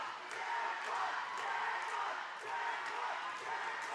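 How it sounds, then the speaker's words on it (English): A roller derby crowd at a Rose City Rollers doubleheader roars in a sustained wash of cheering and shouting, swelling and dipping slightly throughout the hall. "Crowd is going crazy for Jackpot."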